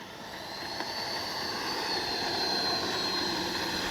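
An Arrows RC F-15 model jet with twin 64mm electric ducted fans flies past, a smooth airy whine that swells steadily louder over a few seconds.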